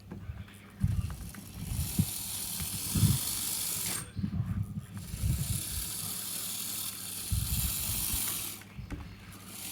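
A small model train locomotive motor whirs and rattles steadily along a track, with a constant high hiss and brief pauses where the mechanical clatter drops away.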